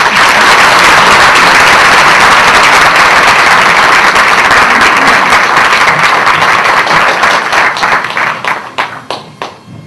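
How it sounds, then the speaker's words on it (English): Large audience applause at an evening Diwali celebration with New York's mayor, loud, dense and sustained for most of the stretch, then thinning into scattered individual claps as it dies away. "with a round of applause, let's welcome Mr."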